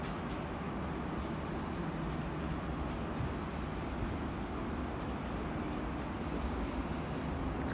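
Train pulling into Den Haag Centraal station, a steady broadband rumble of wheels and carriages held at one even loudness throughout, with no voices over it.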